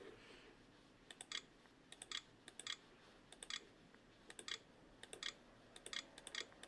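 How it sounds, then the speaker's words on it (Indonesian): Someone types on the built-in keyboard of an Acer Z1402 Core i3 laptop under test: quiet, irregular bursts of quick key clicks separated by short pauses. "kita gunakan keyboard internal saja"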